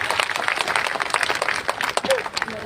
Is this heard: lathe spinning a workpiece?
no